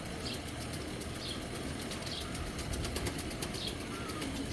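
Racing pigeon, a Belgian-bred male, flapping its wings in bursts of soft rhythmic fluttering over a steady noisy background, fairly close.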